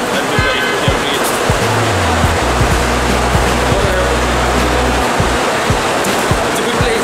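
Surf washing onto a beach in Dubai, a steady broad roar of breaking waves close by with low wind rumble and a faint engine hum underneath, no voices.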